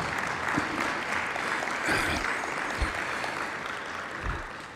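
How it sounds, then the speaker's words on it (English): Applause from a conference audience fills the room with steady, dense clapping at an even level throughout, with no voices over it. "he deserves a round of applause"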